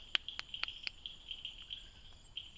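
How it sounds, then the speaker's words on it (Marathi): At night, a Bombay bush frog calls in a forest beside a stream. Its call is a faint series of sharp, high clicks that come in an uneven run, rather like someone typing, over a quiet background. "ह्याचं नाव आहे बॉम्बे बुश फ्रॉग"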